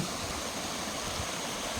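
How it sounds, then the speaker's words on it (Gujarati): A natural river near the Khodiyar temple at Matalpar village flows with a steady, dense rush of water, constant and close, with no voices. "આ નદી પણ ખૂબ જ સુંદર અને કુદરતી નજારાવાળી નદી છે"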